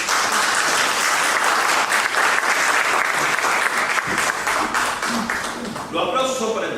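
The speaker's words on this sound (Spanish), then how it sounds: "Los aplausos son para empezar, por vos" Sustained applause from an audience at a book launch presentation in Tucumán, steady and dense throughout, with a voice faintly under it near the end.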